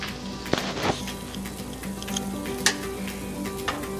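Boiling candy apple syrup bubbles and sizzles steadily in a pot while a spoon stirs it, with a few sharp scrapes and clinks against the pot. No one speaks.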